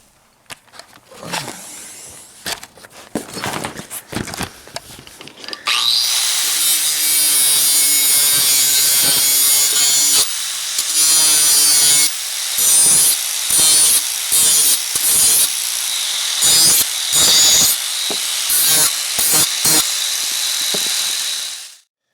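An angle grinder's abrasive wheel cleans up sharp corners on steel brackets for a homemade snowmobile sleigh: a few short scraping passes, then a loud, sustained grinding whine broken by repeated brief pauses, close up and without talk.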